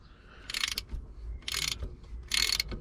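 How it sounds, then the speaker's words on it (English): A new half-inch Halfords ratchet loosens a bolt holding a handbrake caliper on a Cummins-engined Land Rover 130, giving three short bursts of rapid clicking close by, separated by brief pauses. "This nice new 1/2 inch Halfords ratchet"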